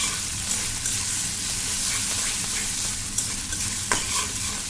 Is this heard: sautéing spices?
yes